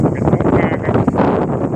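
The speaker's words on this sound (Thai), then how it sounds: "เสียงลมนะครับ ลมแรงมากเลย" Strong wind blows across a rural field under a cloudy sky with no rain, a loud, continuous roar and buffeting on the microphone throughout.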